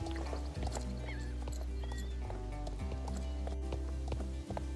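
Horse hooves clip-clop steadily while riding in the video game Star Stable, in Jorvik. The rhythmic hoofbeats sit close and clear over sustained tonal game music, with no voices.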